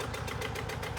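A Massey Ferguson 132 tractor engine idles steadily nearby, a loud low chugging with a fast even pulse and rattling vibration, running alone without voices.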